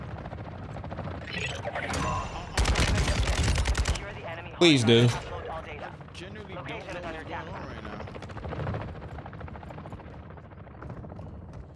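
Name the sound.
helicopter and gunfire in video game Warzone 2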